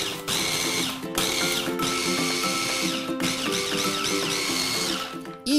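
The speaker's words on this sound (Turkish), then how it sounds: "Önce bisküvileri bir çekelim." An electric food processor grinds biscuits into fine crumbs, running as a loud continuous whirring motor with three short pauses between pulses, and no voices.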